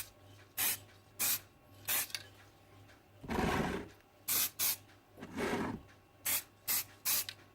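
Aerosol paint sprayed onto a Hot Wheels toy car in short, close hissing bursts, several quick pulses separated by pauses with a couple of longer sustained sprays in between.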